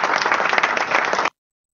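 A dense burst of crowd applause and clapping fills about a second and a quarter, fairly loud and steady, then stops abruptly into silence.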